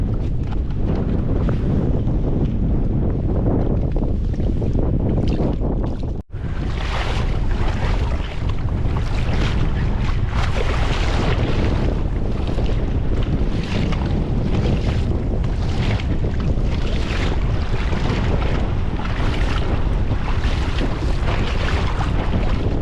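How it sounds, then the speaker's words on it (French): A strong headwind of about 30 to 35 km/h blows over a recreational fishing boat at sea. Loud, continuous wind buffeting hits the microphone for the whole stretch, with a brief dropout early on. "Le vent est trop soutenu, un bon vent, un bon 30 km/h, 35 des là, de face."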